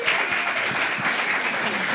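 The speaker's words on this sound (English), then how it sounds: "How about a round of applause for our panelists?" Audience applause for the panelists at a cybersecurity keynote panel, a steady broadband wash of clapping filling the room for two seconds, with some voices mixed in.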